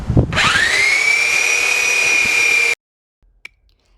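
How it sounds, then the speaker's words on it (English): A belt sander runs on wood while a DIY RV gate is refinished, spinning up quickly into a loud, steady high whine that holds for a few seconds and then cuts off, followed by a faint tap. "The belt sander worked great."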